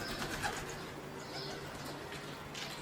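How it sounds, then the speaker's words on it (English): A baby wood pigeon in a UK garden, its soft cooing faint amid an outdoor backdrop of other birds chirping and a steady ambient hum. "A baby wood pigeon."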